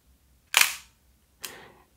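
A Nikon F3 film camera fires its mechanical shutter release, giving two sharp, close mechanical clacks about a second apart in an otherwise quiet room.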